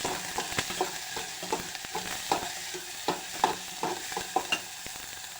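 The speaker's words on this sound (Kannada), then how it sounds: "ಉಳ್ಳಾಗಡ್ಡಿ ಸ್ವಲ್ಪ ಚೆಂದಾಗಿ ಕೆಂಪು ಹಾಕ್ತವ್ರಿ ಜಲ್ದಿ" Onions fry in a pan with a steady close sizzle, broken by repeated scraping and stirring knocks at an irregular rhythm, with no voices.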